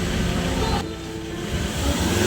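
Mazda BT50 engine revving hard past the red line, a loud sustained high roar that dips briefly and then climbs again.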